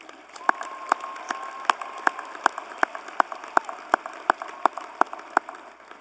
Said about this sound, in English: Let's have a round of applause for the people who got us here.